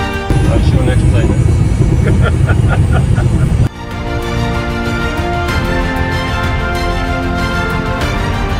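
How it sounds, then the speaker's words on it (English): An airplane at an airport makes a loud, steady droning roar that fills the whole stretch and shifts tone partway through, with people's voices faintly underneath. "That's your next plane."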